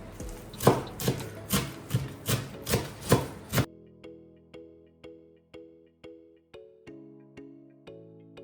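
A knife chops fresh parsley and dill on a board in quick, even, close strokes for about three and a half seconds, then stops and gentle chiming music plays alone.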